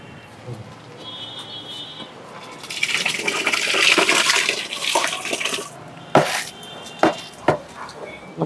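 Washed rice has its rinse water drained off for a village-style khichdi cooked over a wood-fired stove, giving a loud splashing, gurgling pour in the middle, followed by sharp clanks of a metal pot.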